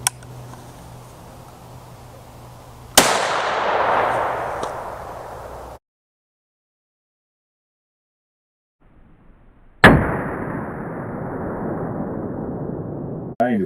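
Two loud, close blasts from a 12 gauge shotgun fitted with a 10mm caliber adapter, firing 95 grain hollow points into ballistics gel outdoors, each followed by a long decaying echo, with a silent gap between them.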